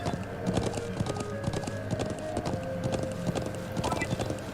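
Horses gallop in the video game Trails of Cold Steel, a steady stream of loud, close hoofbeats under game music and brief background voices.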